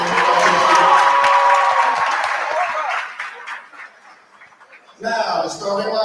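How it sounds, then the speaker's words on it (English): Gym crowd at a high school boys basketball playoff game claps and cheers loudly for a player, then the noise dips and swells again in a fresh burst of applause. "Please clap it up for Marquise Isley."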